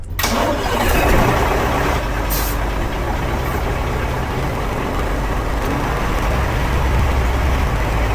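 A boat engine cranks and catches, then settles into a loud, steady rumbling idle that carries on to the end.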